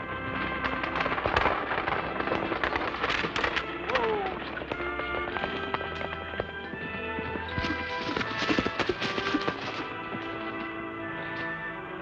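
Stagecoach horses on the trail in a 1940 Colorado western, hooves clip-clopping steadily with busy clattering and sharp cracks over a dense, continuous background of music and movement.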